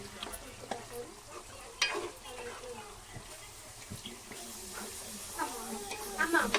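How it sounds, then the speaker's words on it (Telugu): A spoon stirs gongura liver curry with tomato in a pan, giving soft scraping and a low simmering sizzle under ongoing talk, with a few louder clinks and scrapes near the start and end. "అలా తీసుకొని మూత తీసుకొని కలుపుకుందామండి"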